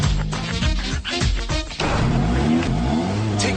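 A car engine revs loudly and close, a rough rising roar with a couple of brief dips, then settles into a steady grinding run.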